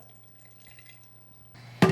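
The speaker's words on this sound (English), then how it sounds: "Add water. It's cold water" Cold water poured into a pot for making quinoa nurungji, a short faint trickle that swells into a loud splashing pour right at the end.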